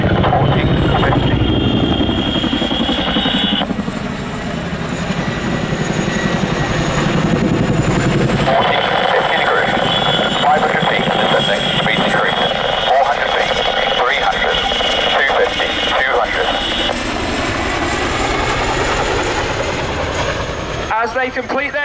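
Royal Air Force Chinook twin-rotor helicopter displaying at RAF Cosford air show 2023: loud, continuous rotor and turbine roar throughout with steady tonal whine, a commentator talking over it, ending abruptly near the close.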